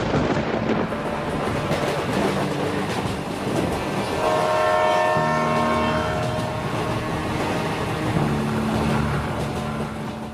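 The Antyodaya Express passenger train rumbles along steadily with continuous rolling and rattling noise and sustained horn-like tones rising and falling throughout, heard loud from close by.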